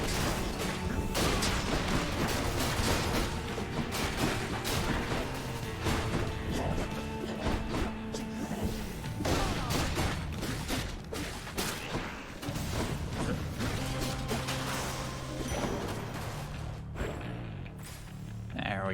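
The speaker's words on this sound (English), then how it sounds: "I just get hit by all these bombs" Bombs explode in the action game Hades, with repeated crashing impacts and bursts in a dense, busy mix of game sound, a player talking over it.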